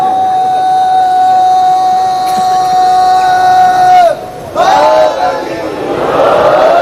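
A large crowd at a Shia majlis in Tando Allahyar raises loud, sustained chanted slogans in long drawn-out tones, breaking briefly before swelling again into a dense, roaring wave of voices.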